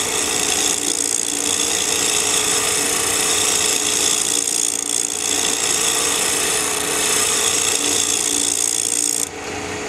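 Cocobolo wood is scraped to shape with a hand tool in steady, continuous rasping strokes, close and loud, alone without talk, ending with a brief shift in tone.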